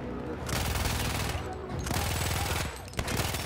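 Rapid gunfire in a Battlefield 1 firefight, bursts of shots rattling steadily through the whole stretch with brief dips, loud and close amid general battle noise.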